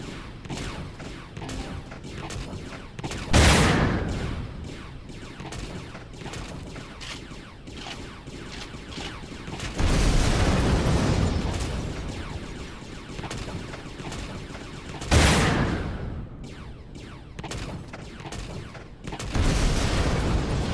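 Heavy bursts of fire from four railguns in Empyrion: Galactic Survival, with loud booming blasts at intervals over a continuous rumble of combat, some bursts lasting several seconds.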